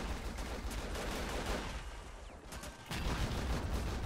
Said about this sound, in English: I'm going to give one more shot up close and see if we can do something to it.